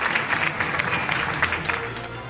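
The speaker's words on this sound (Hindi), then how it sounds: "Huge round of applause for team city eight 10।" Audience applause at a news network's annual award show in a hall, dense continuous clapping from a large crowd with sharper claps popping through, steady and full for the whole stretch.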